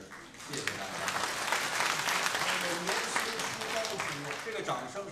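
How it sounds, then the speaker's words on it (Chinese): An audience at a crosstalk show in Beijing's Guangdelou theatre bursts into sustained applause that swells and holds for several seconds, dense clapping from a sizeable crowd filling the hall. "这个掌声是对他们的鼓励"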